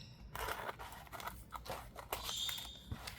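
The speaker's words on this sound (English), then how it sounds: "I'm going to come in with the bigger scissors and just trim these little edges down." Large scissors snip and crunch through cardboard edges in a close crafting session, a series of crisp cutting bursts with rustling of the box between cuts, no voices.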